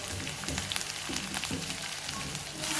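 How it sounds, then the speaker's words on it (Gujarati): Curry leaves and mint frying in hot oil for a samosa filling, a dense crackling sizzle that holds steady over a few seconds and swells slightly at the end, close and without speech. "કડી લીમડો અને ફુદીનો નાખીશું."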